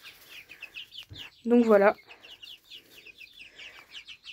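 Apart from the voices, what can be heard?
chickens clucking, hens of the counou breed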